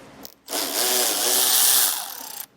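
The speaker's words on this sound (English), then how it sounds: "we're going to be removing this plastic panel right here that you see. There's going to be 3 screws throughout the center here and then 1 on either end" A power driver with an 8mm socket spins out screws from a plastic underbody panel on a 2021 Jaguar, giving one loud, close burst of whirring lasting about two seconds, with no voices.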